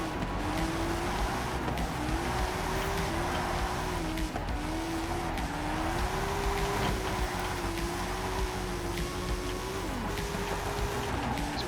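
The Hot Wheels Goliath car drifts through banked turns, its engine holding a continuous, wavering high whine that rises and dips, with a constant rush of road and tire noise and occasional squeal.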